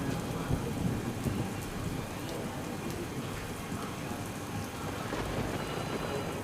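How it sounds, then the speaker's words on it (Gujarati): Heavy rain falls steadily on surfaces in Porbandar, a dense, constant wash of drops with low rumbling like distant thunder beneath it. "પોરબંદરમાં વરસાદી માહોલ જામ્યો છે"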